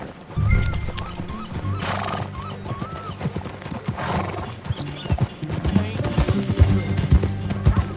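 A horse in the video game Red Dead Redemption 2 whinnies several times over rhythmic clip-clopping hooves, with a low rumbling background throughout.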